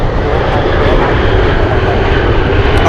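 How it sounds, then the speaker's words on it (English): Alaska Airlines flight 1810 arrives at Anchorage from SeaTac on a gusty day, its jet engines making a loud, continuous, close roar that holds steady throughout. "Flying in from SeaTac, we're looking at Alaska 1810"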